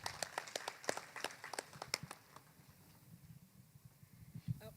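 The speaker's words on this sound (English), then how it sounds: "A round of applause for this great man." Audience at a summit applauding the governor, a burst of sharp claps for about two seconds that fades into faint scattered clapping and room noise; quiet and distant overall.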